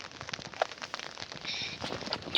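Steady rain falling outdoors in a scenic natural setting, a soft continuous patter of drops with faint crackling hiss throughout, fairly close and unbroken.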